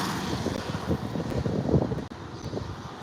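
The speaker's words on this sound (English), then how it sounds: "Geez, the wind is strong." Strong wind buffeting an outdoor microphone on a walk in Kampot, Cambodia, a continuous rumbling roar with gusty surges throughout and no talk.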